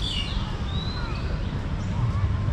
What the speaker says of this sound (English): the sound of birds absolutely dominate at this point